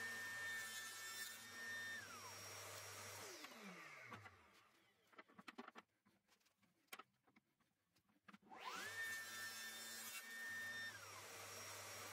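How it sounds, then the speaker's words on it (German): Hand saw cutting a 20-degree bevel into cherry wood, heard as a faint scratchy rasp in short strokes, sandwiched between stretches of a steady mechanical hum that drops away and returns. "Diese Schräge säge ich nur in der unteren Kirsche"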